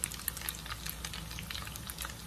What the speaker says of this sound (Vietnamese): Mình sẽ chiên cho nó vàng hết rồi